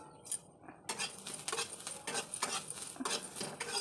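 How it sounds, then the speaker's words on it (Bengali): A garlic and black cumin mixture is stirred in a pan with the gas turned off, giving a series of quiet, close scraping strokes with a few clinks and no talking. "এবার এটাকে একটু নাড়তে থাকবো।"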